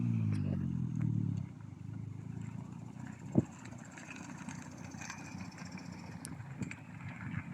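A warmed-up Toyota Starlet Glanza V runs at a steady low idle and rolls off slowly, its engine a constant hum with one brief knock partway through and no voices.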